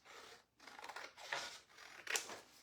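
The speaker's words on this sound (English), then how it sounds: "Okay, I cut my paper in half, and now I'm gonna cut it into 1/4." Scissors snip through construction paper in a few separate strokes with short pauses between them, close and fairly quiet, no talking.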